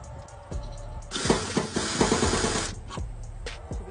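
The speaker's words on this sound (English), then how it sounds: "so we're gonna go ahead and drill them out now" A power drill bores holes through metal on a Jeep while rock lights are fitted, with a loud grinding whir of about one and a half seconds, plus short bursts and handling clatter around it.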